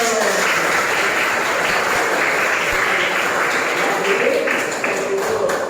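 Students clapping in a classroom during a lesson, a steady, loud wash of hand claps lasting throughout without pause.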